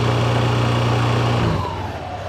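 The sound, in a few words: Yamaha NMAX scooter with VMAX Racing Onyx muffler revving at 3,000 RPM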